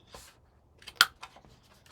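A corner-rounding punch cuts paper corners for a mini album, making a few light clicks and snips with one sharp, close crunch in the middle and quieter taps around it.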